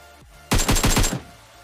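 Gunfire in PUBG Mobile: a single short burst of about five rapid, loud automatic shots, standing alone against quiet game background.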